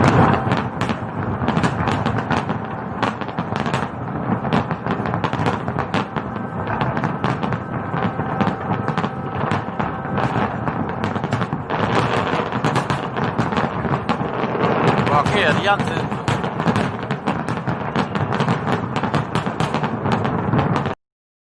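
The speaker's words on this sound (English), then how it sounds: "I'm going to show some fireworks." Fireworks crackle and boom without pause through a live stream, a dense run of bursts and pops that holds at a steady, fairly loud level and then cuts off abruptly at the end.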